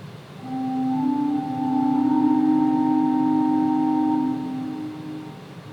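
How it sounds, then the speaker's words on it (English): A soft, sustained pipe organ tone from the Bourdon 8 stop of the Récit division, holding a low chord for several seconds before fading, with a gentle room ambience. "So for instance, we can take our Bourdon 8 pieds of the Récy division,"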